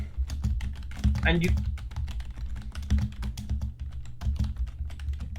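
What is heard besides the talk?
typing on a computer keyboard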